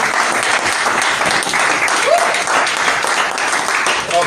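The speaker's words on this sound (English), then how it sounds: "Let's give them a round of applause." A room full of people applauds for barbers at a barbershop community event, steady dense clapping that fills the clip from start to finish at an even, close level, with a brief voice rising through it.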